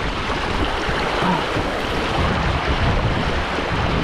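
High tide water washing in at a coastal spot, a steady close rush of surf and churning water with wind buffeting the microphone, no voices.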